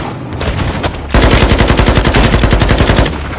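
Rapid automatic gunfire from a Call of Duty cinematic firefight, starting after a quieter opening and then bursting loud and continuous in a dense rattling stream for about two seconds before easing back.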